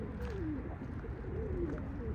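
A tumbler pigeon coos softly several times over a low, steady background hum.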